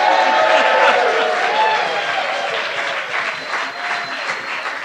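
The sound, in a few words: audience applauding and making noise for a vote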